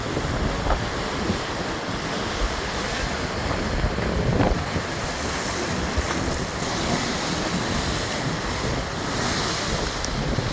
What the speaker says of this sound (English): The sea does get to St Annes.